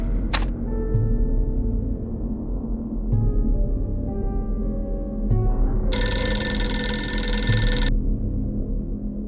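In a Dracula film scene, a telephone rings in repeated bursts, faint at first and then one loud, close ring near the end, over a low background hum.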